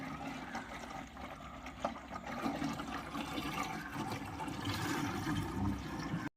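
Freshly milled coconut oil pours into a can in a steady, close, continuous liquid rush that lasts for several seconds, with no talking, and then stops abruptly.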